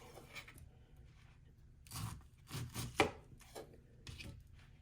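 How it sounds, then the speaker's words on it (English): A knife chops downward through a pineapple to cut out the core, making a series of crisp, irregular cutting thuds up close with short pauses between them. "you want to take your blade and chop in a downward direction so that you can core out the middle"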